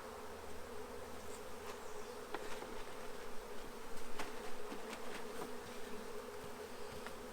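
Honey bees buzz around a hive after a swarm transfer, a steady, fairly faint drone of many insects with occasional louder passes close by.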